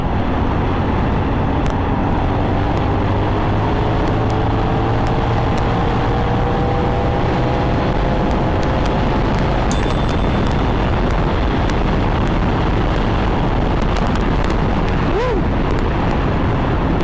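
A Kawasaki NK450 motorcycle cruises along a bypass in fourth gear, a continuous engine drone under heavy wind rush, loud and steady throughout with faint rising pitch sweeps as it accelerates.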